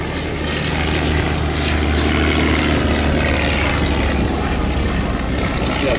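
A propeller aerobatic aircraft flying at the Sywell airshow, a strong droning engine buzz with a steady low hum that swells slightly, close and continuous.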